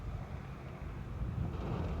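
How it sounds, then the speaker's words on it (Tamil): Strong wind roars steadily during a heavy rainstorm in Saudi Arabia, a dense, continuous rumble and rush with no pauses. "செம்ம காற்று மக்களே."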